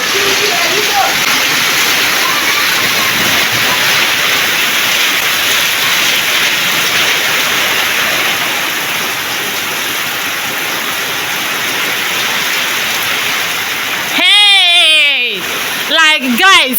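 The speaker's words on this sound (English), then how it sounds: "It just started and it's raining heavily." Heavy rain pours down in an African village as a dense, loud, continuous hiss that fills most of the stretch. Near the end, voices and a child's cry break in over the downpour.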